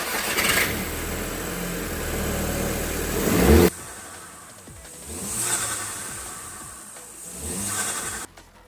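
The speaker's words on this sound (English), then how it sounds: "It has a little bit of turbo flutter, but I guess that's just the way the valve is." Volkswagen Mk5 GTI turbocharged engine fitted with a Forge diverter valve starts and revs in short bursts, with turbo flutter as the throttle closes, heard close and loud with no talking.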